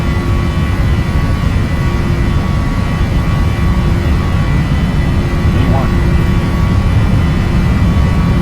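Jet airliner engines at takeoff thrust in a flight simulator, on a Norwegian night departure from Bergen, roar as a loud, dense, steady drone with a faint tonal whine, unbroken for the whole stretch.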